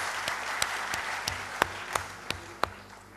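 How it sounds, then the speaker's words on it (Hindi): Audience applause at the HIFA Karm Samman award ceremony in honour of an organisation, a steady wash of many hands clapping with a few sharp, louder claps standing out at regular intervals. "तो जोरदार तालियां हो जाएं सबसे पहले इस"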